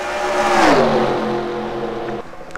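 Stock cars in a racing video game sweep past on a tri-oval, one loud revving engine whose pitch drops as it passes, then a quieter engine hum trailing off.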